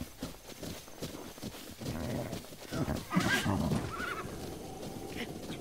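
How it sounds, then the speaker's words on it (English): Horses in the video game Zelda Breath of the Wild, with a whinny and clopping hooves over a soft, busy game soundscape, moderately quiet and fairly close. "So many horses."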